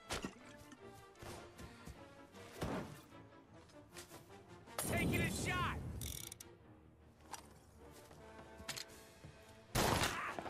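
A gun being reloaded in Mafia: Definitive Edition: metallic ratcheting clicks and clacks mixed with bursts of gunfire and impacts, fairly faint overall, under occasional talking and game voices.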